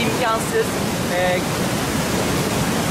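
A creek swollen by a heavy downpour rushes with a dense, constant roar of water, close and loud, while a voice speaks briefly over it.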